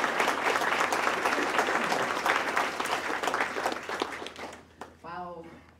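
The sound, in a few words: audience applause welcoming a speaker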